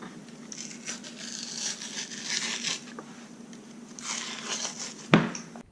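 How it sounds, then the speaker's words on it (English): Beef ribs slid out of their plastic packaging, giving intermittent crinkling and rustling with a sharper crackle near the end, close and moderately quiet. "Taking these ribs out of the package here"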